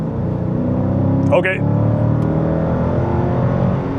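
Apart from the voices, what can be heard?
Dodge Challenger engine revving under light throttle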